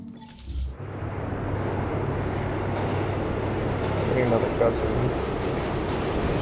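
Subway train in The Division's underground tunnels rolls through with loud, sustained wheel squeal and rumbling rail noise, close and unbroken after a brief opening thump.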